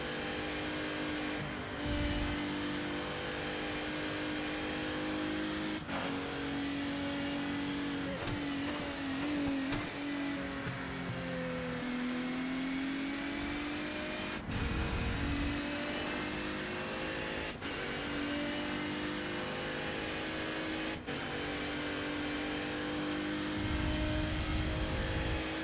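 The Palmer Jaguar JP1 race car in ToCA Race Driver 3 drones steadily at high revs through a race on track, its engine pitch dipping and climbing through corners, with brief low thumps along the way.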